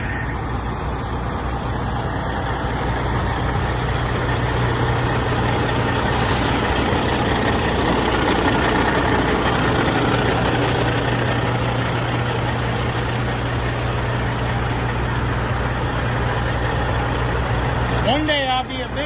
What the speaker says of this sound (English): Look at this pretty ass damn truck.